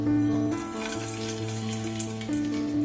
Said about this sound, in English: Now we'll just put in the eggs to lightly fry